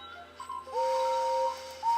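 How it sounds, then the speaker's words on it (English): Henry's steam engine whistle from the Thomas & Friends game sounds as a clear, sustained two-tone whistle that holds steady for about a second, then cuts off before a brief restart. "That's Henry's."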